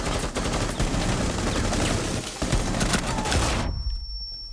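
Dense, rapid video game gunfire crackles continuously and loudly for several seconds, then stops abruptly, leaving a quiet hum.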